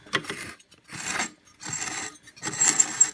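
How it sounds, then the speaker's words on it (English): A 1950s German Tefifon Kc1 audio player mechanism runs dry, its motor, rubber wheel, flywheel and belt-driven spool giving four rhythmic bursts of whirring, rattling mechanical noise separated by short pauses. "So there's the motor that turns that rubber wheel, which in turn turns this flywheel, which has got the belt going to this drive spool"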